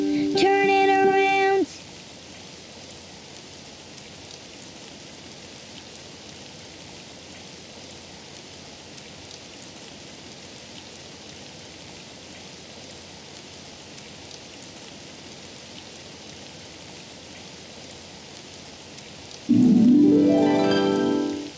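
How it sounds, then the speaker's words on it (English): Steady rain hisses softly and evenly, with brief musical tones at the start and end. "Oh, it's raining outside."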